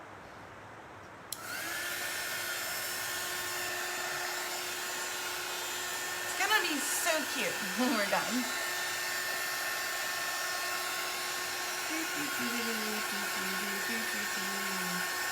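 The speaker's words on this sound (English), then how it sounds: "we're going to use our little handy dandy heat dryer" A heat dryer starts abruptly and blows with a steady, whining hum throughout while drying a T-shirt, while a person talks briefly over it partway through.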